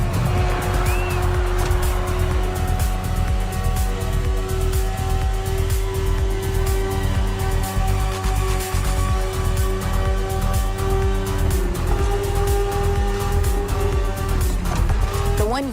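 A BMW S1000RR superbike is ridden in the racing game The Crew Motorfest, its engine droning loud and continuous throughout with a steady high whine, and a voice talks over it.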